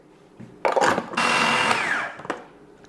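A food processor mincing meat and potato for Austrian dumplings, starting with short whirring pulses and then running in a sustained motor whine for about a second before stopping, with a brief final burst.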